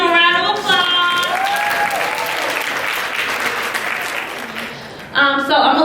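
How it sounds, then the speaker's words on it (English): Applause from a conference audience rises after a brief voice and fills several seconds at steady loudness, then fades as a speaker's voice returns near the end. "Please give them a round of applause"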